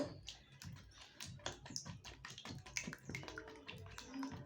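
Duck eggs are whisked in a small bowl, a rapid, uneven run of light taps and clicks from the utensil against the bowl, quiet and close with no voices.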